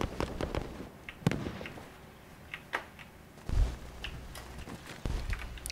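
Video game gunfire: scattered sharp shots and cracks at irregular intervals, some near and loud, others distant and faint, over a low ambient background.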